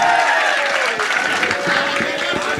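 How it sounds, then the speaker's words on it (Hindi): Audience clapping for a boy's dance step at a Sapna Chaudhary stage event: a short, dense burst of crowd applause, loud and close, with voices mixed in. "ताली बजाओ लड़के के लिए।"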